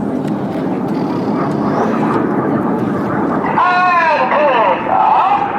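Red Arrows display jets fly at the Farnborough Air Show, their engines roaring continuously, with a rising whoosh in the second half, under a commentator's voice.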